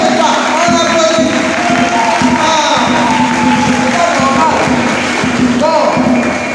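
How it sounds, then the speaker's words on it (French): Church parish audience at a faith contest semi-final clapping and cheering, rhythmic claps and crowd shouts mixed with music and voices throughout. "On applaudit."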